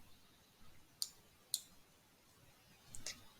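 Computer mouse clicks, three sharp, faint taps spaced about half a second to a second and a half apart, close and isolated against a quiet room.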